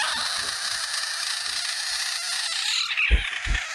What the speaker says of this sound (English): Is this a baby frog? Is this a real frog?